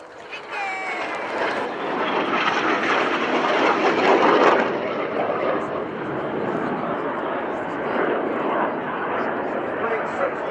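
Display jets fly a manoeuvre at an airshow, a loud sustained engine roar that swells and then holds steady, with a commentator talking over it throughout.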